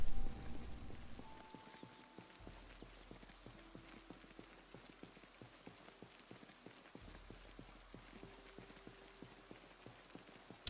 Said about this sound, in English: subtle rain and the walking noises